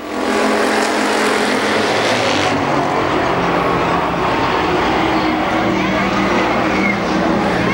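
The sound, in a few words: race cars racing at Columbus Motor Speedway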